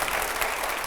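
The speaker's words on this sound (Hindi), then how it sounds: "और जोरदार तालियां हर जवाब पर दिखाइए जरा" A studio audience at a televised Hindi political debate in Meerut breaks into a brief, dense burst of applause. The sound is a steady wash of many hands with no voices.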